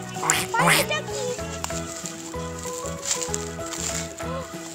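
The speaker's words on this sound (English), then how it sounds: "I think I found the duckies." Ducks quack in a cartoon animal sound matching game with cheerful background music. The quacks are brief and mixed under a character's speech.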